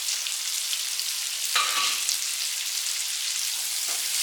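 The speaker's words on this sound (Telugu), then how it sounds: "ఈ ఆనియన్స్ బాగా ఫ్రై అవ్వాలండి" Chopped onions fry in hot oil with cinnamon, cloves and cumin for a prawn masala, giving a steady, close, even sizzle with a brief stir-like scrape midway and no talk.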